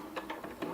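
Sewing machine stitching a hem in mesh hammock fabric, a close, steady run of mechanical bursts with a few uneven pulses, heard alone with no talking.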